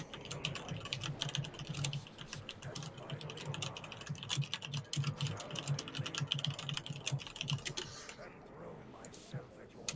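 Rapid computer keyboard typing during a World of Warcraft raid session, a fast, clattering run of close key presses over a low hum, with people talking in the background, the keystrokes thinning out toward the end.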